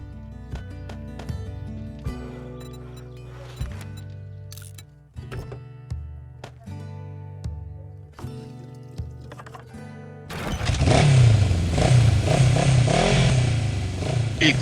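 A motorcycle built by a player in the survival game 7 Days to Die, starting up after a stretch of clicks and clatter, then a loud, steady rumbling rev that holds to the end.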